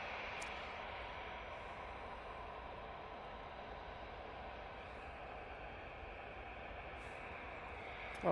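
Aer Lingus airliner at Manchester Airport, heading to Dublin, heard as a steady, broad jet-engine roar that holds evenly throughout with no voices.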